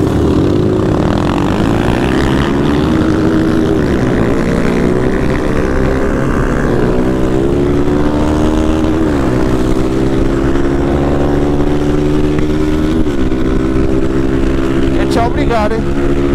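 Honda Start 160 motorcycle with its stock exhaust, ridden at night: loud, close engine drone that climbs and shifts pitch through repeated revs and gear changes, with no talk heard over it.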